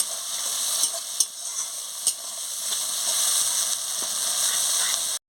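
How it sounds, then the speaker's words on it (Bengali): Spice masala sizzles loudly in a pan for curried goat meat, a continuous hot frying hiss with a few sharp stirring clicks, cutting off abruptly at the end. "দারুণ ভাজা হচ্ছে"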